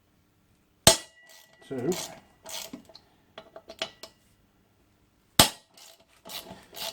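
An Allen key breaking loose bolts on a Suzuki GSXR750 rear brake disc, giving two sharp metallic cracks several seconds apart, with scattered tool clinks and a man counting between them.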